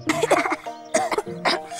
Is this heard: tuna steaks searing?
no